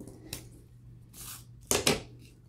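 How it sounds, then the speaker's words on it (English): Scissors snip through a Christmas card in a few crisp, close cuts separated by short pauses, with no talking. "I'm gonna cut this"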